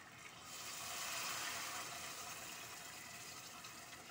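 Hot water gushes into a cooking pot of kabsa with rice, chicken and potato, a soft steady pouring rush that swells after a quiet start and then holds evenly, fairly faint, with no talk.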